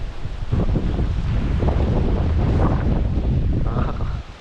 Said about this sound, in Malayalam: കാറ്റിൻ്റെ സൗണ്ട് കേൾക്കണം നല്ല കാറ്റ്